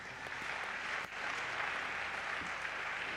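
A church congregation applauding during a worship service: steady, dense clapping from a crowd at moderate distance, continuous for several seconds with no break.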